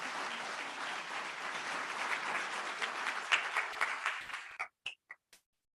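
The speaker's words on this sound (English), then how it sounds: "Let's give another round of applause, please, for Miss Antavia Williams" Applause from a crowd at a fire chief's swearing-in ceremony, a dense wash of clapping that thins out into a few last isolated claps and then silence.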